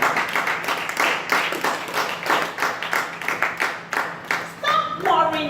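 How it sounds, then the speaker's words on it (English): A church congregation claps in a steady rhythmic beat, roughly twice a second, with a faint sustained hum beneath and a brief voice rising near the end. "Thank you for clapping."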